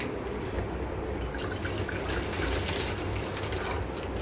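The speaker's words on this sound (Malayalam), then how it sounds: "നമുക്ക് ഈ പാട്ടിലോട്ട് കുറച്ച് വെള്ളം അങ്ങ് ഒഴിച്ചു കൊടുക്കാം ചൂടാക്കാൻ" Water pours steadily into a container with a continuous splashing rush and a faint metallic ring, unbroken for several seconds with no voices.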